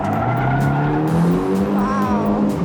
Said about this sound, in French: prendre le frein à main, c'est une bonne technique